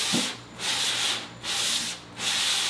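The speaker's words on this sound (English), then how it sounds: "I'm sanding it right now so I can paint it" Rhythmic sanding strokes rasp back and forth across a wooden bench along the grain, three or four even passes close to the microphone with short pauses between.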